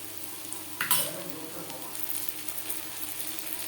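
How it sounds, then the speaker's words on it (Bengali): Chopped onions sizzle steadily in a hot pan for Bengali prawn malai curry, with a brief louder burst of spitting hiss as ginger paste goes in, then the frying settles back to an even, close crackle. "তিন চার মিনিট পেঁয়াজ ভেজে নেওয়ার পর দিয়ে দেবো আদা বাটা"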